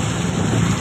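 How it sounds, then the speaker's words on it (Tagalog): Steady rain hissing continuously, fairly loud and close, with a dense low rumble underneath and no voices. "Umuulan pa naman."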